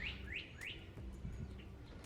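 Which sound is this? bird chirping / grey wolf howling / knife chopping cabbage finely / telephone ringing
bird chirping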